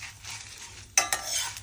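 Curry leaves and pepper crackle in hot oil in a pan for rasam, a soft sizzle that jumps sharply as more goes in, with stirring clinks and no talk.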